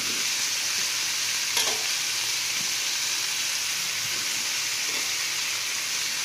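Eggplant pieces frying with onions, salt and turmeric in a pan for an Andhra-style pulusu, a steady close hiss and sizzle with a single faint stir, no talking.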